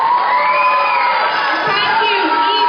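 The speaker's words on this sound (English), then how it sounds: "Give a big round of applause for yourself" A crowd cheers and shouts at a Rangapravesam dance debut, a loud continuous roar of voices with whoops and high excited calls, and no distinct clapping.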